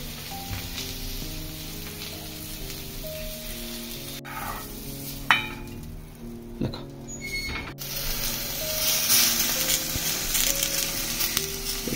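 Whole prawns sizzle and fry on a hot tawa, a steady crackling hiss with occasional sharp pops and a few spatula scrapes and taps, with no one speaking.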